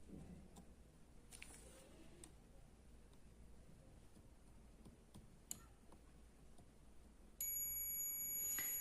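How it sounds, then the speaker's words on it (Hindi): Continuity beep from a multimeter probing a DC-DC IC test point on a TV panel board: a steady high tone starts near the end and holds for about a second and a half, over faint ticks and low hum. "ये हमारा बीप की आवाज दिया है"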